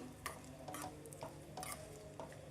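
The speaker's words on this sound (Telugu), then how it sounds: "పోపు మిశ్రమాన్ని అంతటిని ఫ్రై చేసేయండి" Spices sizzle and crackle in hot oil while a utensil scrapes and stirs the pan in repeated strokes, with no talking.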